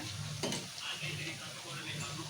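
Gram flour batter frying in hot oil like bajji, for boondi laddu, gives a soft continuous sizzle with faint stirring clicks, close and fairly quiet.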